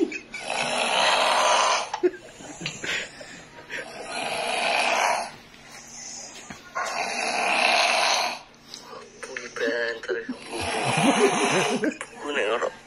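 Loud snoring comes in four long, rasping breaths at a regular rhythm, each swelling then fading, with quieter snorts and laughter-like sounds between.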